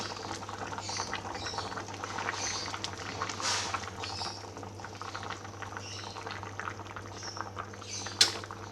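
Asam padeh with eggplant simmering in a pot over the stove, a steady low bubbling that stays even throughout with a faint clink near the end.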